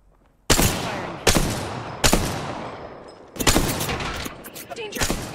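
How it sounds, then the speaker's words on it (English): Gunfire from a Flatline rifle in a ranked Apex Legends match, sounding as four or five loud bursts of shots with sharp onsets and decaying tails across about five seconds, with no talking over them. "Firing."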